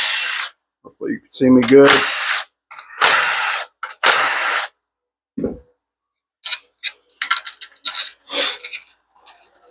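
Short bursts from a power tool remove bolts from a 4R100 transmission valve body, coming as several separate close whirring pulses with brief pauses between them, followed by lighter clicks and handling noises while someone talks.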